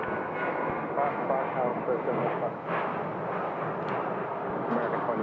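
An airliner at Phoenix Sky Harbor airport, heard as a continuous broad engine roar that holds steady throughout, with a slight dip midway.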